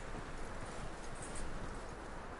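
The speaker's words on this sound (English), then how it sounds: "That looks like a decent horse." Steady clip-clop of a horse's hooves in Red Dead Redemption II, a continuous close walking rhythm over a dense bed of ambient noise, with no voices.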